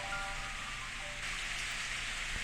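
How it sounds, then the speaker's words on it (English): Rain falling in the visual novel game Steins;Gate, a steady soft hiss of drops on surfaces with no voices, even and continuous throughout. "I suddenly hear the sound of rain. I look outside the window and see that rain has started to fall."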